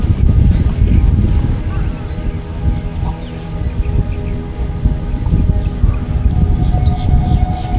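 Strong wind buffets the microphone in rumbling gusts throughout, with faint water and radio-controlled sailboat noise underneath at Siesta Bay.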